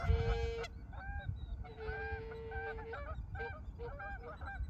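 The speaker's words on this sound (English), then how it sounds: "explain me why these Canadian geese so noisy when I talk" Canada geese honk repeatedly outdoors at night, loud nasal calls in overlapping bursts over a rough background rumble, with no talking.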